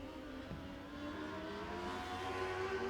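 NOW600 dwarf race cars lapping Tulsa Speedway during a heat race, their engines holding a loud, steady high-pitched whine that swells slightly as the pack drives past, with a sharp knock near the start.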